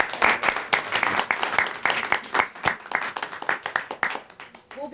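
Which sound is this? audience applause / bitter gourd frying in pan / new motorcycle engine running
audience applause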